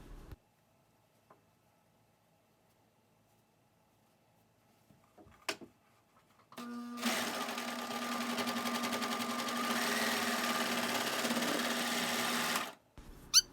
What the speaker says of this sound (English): Now serge down that full side, sewing those 2 strips in place.